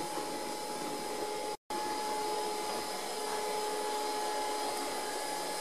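A Cecotec Conga 9090AI robot vacuum cleaner runs with a steady, loud whirring hum and a faint tonal whine. A very brief cut breaks the sound early on.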